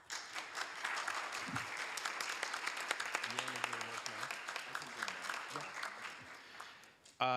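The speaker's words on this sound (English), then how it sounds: "let's give Pride a big round of applause" Audience applause at a city council meeting after the proclamation of June as LGBTQIA+ Pride Month, steady dense clapping filling the room for several seconds with a brief voice partway through.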